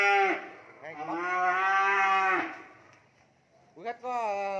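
Beef cattle on a cattle farm give several loud, close moos, two long drawn-out calls and then a shorter one after a pause, with faint background noise between them.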